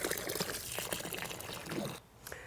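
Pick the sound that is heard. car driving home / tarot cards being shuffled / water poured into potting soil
water poured into potting soil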